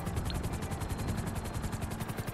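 Video game helicopter with a steady, loud rotor thump throbbing evenly under dense engine roar, continuous and close throughout.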